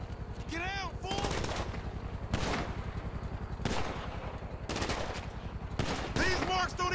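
Rapid automatic gunfire from GTA V gameplay rattles out in several bursts, with close, dense rounds and short gaps between them, while voices talk over the shooting.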